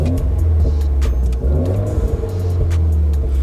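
A car's engine revs hard in sport mode, rising and falling in loud, close, throaty surges as the vehicle accelerates, with no talk over it.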